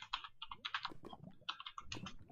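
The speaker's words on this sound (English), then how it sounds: "I'm typing now." Quiet typing on a computer keyboard during a Minecraft modpack session, with a steady patter of soft key clicks in irregular bursts and no talk.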